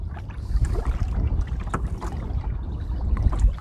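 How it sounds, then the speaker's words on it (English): Kayak paddling through Macatawa Marsh on a breezy spring morning: close, irregular paddle splashes and water sloshing against the hull, mixed with steady wind buffeting the microphone. "I hope you enjoyed paddling with me today, our virtual paddle of the Macatawa Marsh."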